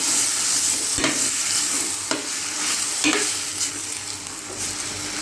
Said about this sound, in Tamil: இப்போ தக்காளியை போட்டுடுங்க. தக்காளி நல்லா வதங்கணும்.